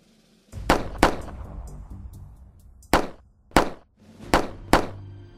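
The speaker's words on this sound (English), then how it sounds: "Shots fired." Seven sharp gunshots, loud and close, in an uneven sequence: a quick pair, a pause, then several more with brief echoes trailing off.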